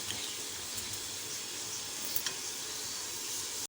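Ghee heating in a pan for besan halwa, giving off a soft, steady sizzle and hiss with a few faint pops, heard alone with no talking.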